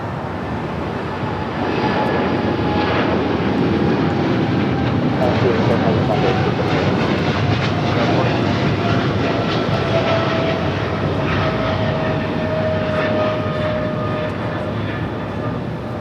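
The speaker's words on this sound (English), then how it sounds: "we got that DHL Coletta Air 777 freighter heading to Cincinnati. Now rolling down to 25 right." Kalitta Air Boeing 777 freighter operating for DHL rolling for takeoff on runway 25 right at Los Angeles International Airport, bound for Cincinnati, with a loud, steady engine roar building and holding throughout, while radio chatter runs underneath.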